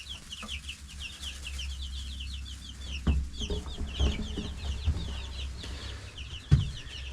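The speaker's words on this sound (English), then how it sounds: "So we moved all our chicks outside into the little chicken house that we have." Young chicks cluck and peep steadily inside a small backyard chicken house, a busy chorus of high chirps with a few louder clucks up close over a low outdoor rumble.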